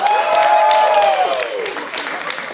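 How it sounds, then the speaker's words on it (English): Crowd at a beatbox battle event claps and cheers loudly all at once, a dense close wash of applause with whoops and shouts riding over it. "Alright, crowd, give it up."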